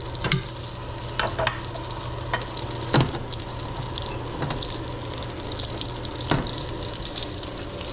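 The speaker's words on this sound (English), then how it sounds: "I'm gonna fry up this in the meantime" Plantain slices fry in a pan in a Jamaican home kitchen, a continuous close crackle of oil with scattered sharp pops and spits throughout.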